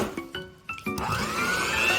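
Eggs are being mixed into pound cake batter with a motorized mixer, a few short bursts followed by a steady, rising whir close by.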